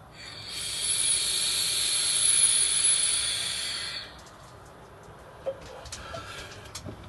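A vape on an Aspire Triton tank with a 0.4 ohm coil at 50 watts gives a loud, steady airy hiss for about four seconds, then cuts off, leaving faint soft clicks and rustles.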